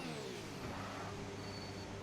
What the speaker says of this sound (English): I hate that audio glitch where it sounds like the revving and the not.